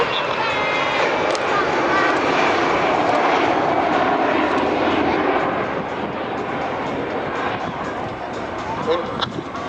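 Aircraft flying in formation at the Durban Virginia airshow give a loud, steady, broadband engine roar that holds throughout and eases slightly near the end, with a radio voice talking over it.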